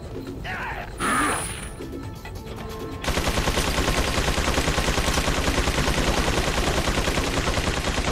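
Gunfire in the video game Resident Evil 4 rattles in dense, rapid bursts that fill the second half, after quieter mechanical clicks and creaks.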